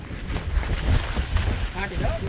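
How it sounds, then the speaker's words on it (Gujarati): Steady gusting wind rushes over the microphone on Mount Girnar, Junagadh, broadband and buffeting, with faint indistinct voices or sounds underneath. "આ રીતના પવન છે"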